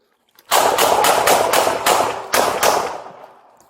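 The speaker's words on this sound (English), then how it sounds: "Officers opened fire in response to the imminent threat." Police officers open fire on an armed burglar at a car dealership: a rapid volley of about seven loud, close gunshots in quick succession, followed by a fading echo.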